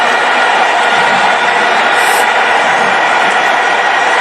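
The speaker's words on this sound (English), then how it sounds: "Oh, the crowd have suddenly woken up" Crowd roaring at a football stadium during a South African league match between Orlando Pirates and Magesi, a loud, continuous, dense wall of noise with a brief higher whistle-like cry partway through.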